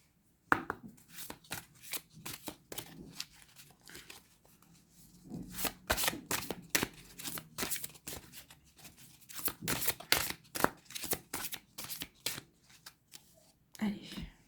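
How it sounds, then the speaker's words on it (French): Tarot-style cards are shuffled and drawn in a steady run of close, papery riffles and slaps, with a soft voice talking in between. "on va aller tirer une carte pour chacun des choix"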